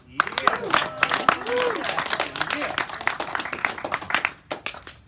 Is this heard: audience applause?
yes